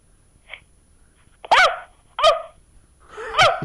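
A six-year-old girl imitates a dog with her voice, giving a small yip followed by three loud, close barking cries, evenly spaced with brief pauses between them.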